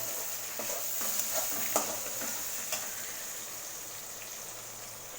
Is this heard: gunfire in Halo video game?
no